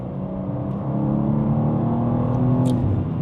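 A 2024 BMW M2 with a manual gearbox pulls hard in third gear on a cold, damp road, its engine note a loud, steady, rising drone heard from close by with no talking.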